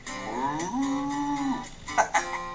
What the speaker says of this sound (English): Have you met Kelly the cow